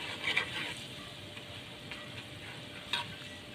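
KFC-style chicken fries gently in oil over low heat and is stirred now and then, with a faint, soft sizzle and a few light scraping clicks; quiet and close, with no speech.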